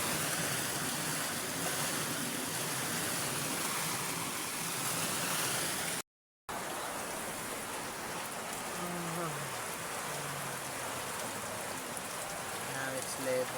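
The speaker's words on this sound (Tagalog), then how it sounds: "The water from the river is flowing inside the house." River floodwater pours into a house with a steady, broadband rushing and splashing, close and continuous, briefly cut off midway before resuming.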